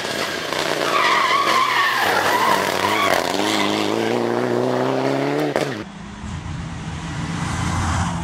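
A Mitsubishi Lancer Evo 9 rally car at a rally stage skids hard, engine wailing and tires scrubbing loudly before the sound cuts abruptly into a lower, rougher rumble.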